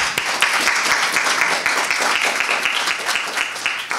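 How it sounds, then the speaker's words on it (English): A crowd claps steadily, a dense patter of many hands filling the room for several seconds without pause. "Can we please give those powerful, extraordinary individuals another round of applause?"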